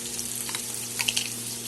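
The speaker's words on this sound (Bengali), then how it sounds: "আলুগুলো এখন আমি ভাজা করে নেব" Cut potatoes frying in a pan with turmeric, giving a soft steady sizzle with faint watery crackles and a few brief brighter pops near the end.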